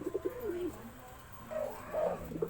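A pet pigeon coos softly at close range in several low, throaty phrases, with quiet room background between the calls.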